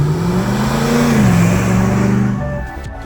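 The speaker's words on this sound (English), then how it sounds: "Beachrunner 3 is powered by our GM 450 horsepower LT1 engine with 10-speed" A 450-horsepower GM LT1 engine with a 10-speed automatic revs in a Beachrunner 3 custom car, a loud, steady mid-pitched roar whose pitch rises slightly, then drops and eases off toward the end.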